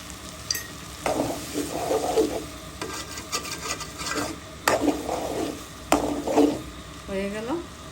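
Beef brain cooking with garam masala in a pan makes bursts of sizzling and scraping as a spatula stirs it, close and loud in repeated strokes with short pauses between.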